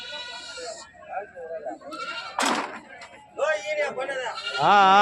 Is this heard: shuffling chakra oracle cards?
no